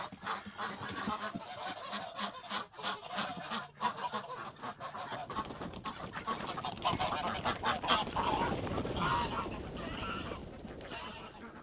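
A flock of geese honks loudly and repeatedly nearby on a muddy farm, the noisy calls overlapping and growing more excited as a person speaks briefly.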